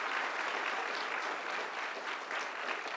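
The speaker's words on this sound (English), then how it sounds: "Give yourselves a round of applause really quick" Commencement audience applauding, a dense steady wash of many hands clapping together, sustained and even in loudness for the full stretch with no talk over it.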